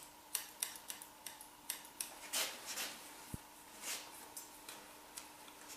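Scissors snip through hair behind the ear during a short wispy haircut, a steady series of crisp, close clicks with a soft rustle in the middle.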